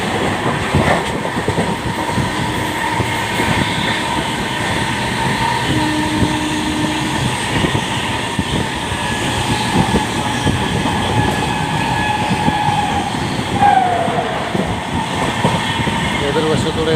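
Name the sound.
train passing on opposite track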